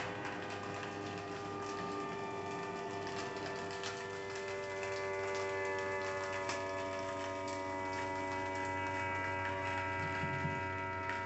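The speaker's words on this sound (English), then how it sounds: "My air just came on." A home air conditioner running, a steady low hum with faint tonal whine and light ticking that holds evenly throughout, with no voices.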